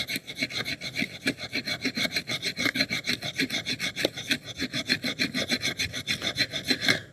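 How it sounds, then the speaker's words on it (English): A Zippo AxeSaw's spine is dragged in quick, even back-and-forth strokes, giving a steady close rasping rhythm that runs without pause for the whole stretch, with no talking. "See if we can get some scraping here."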